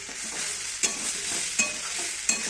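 Soybean and potato with turmeric, chili, cumin and ginger-garlic paste frying in a pan, a continuous bright sizzle with periodic scrape-like stirring strokes, close and alone.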